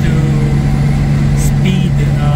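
A Jaguar E-Type's engine drones in a steady, loud hum heard from inside the car on a long road drive. The pitch stays even throughout, with no clear rise, and a voice may be faintly present.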